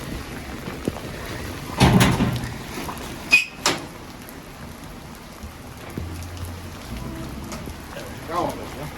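Rain patters outdoors near horses, a continuous soft hiss with a few louder thumps and knocks; people talk briefly over it.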